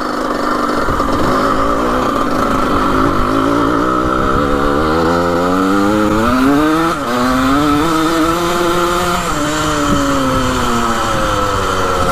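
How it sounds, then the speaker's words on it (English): A rare 1980 vintage racing dirt bike engine runs loud and close, a raspy two-stroke-like buzz that climbs and falls in pitch as it revs through the gears, steady for the whole stretch with no talk. "She's a little boggy in second gear."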